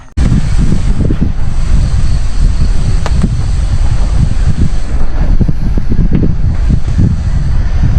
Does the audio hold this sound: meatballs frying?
no